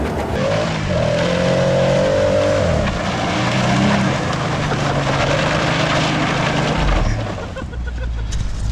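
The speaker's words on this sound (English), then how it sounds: "So the obvious thing to do is to test its donut spinning abilities" A Jeep Gladiator spins donuts, its engine revving and droning loudly and continuously with tire and drivetrain noise, while a voice talks faintly underneath.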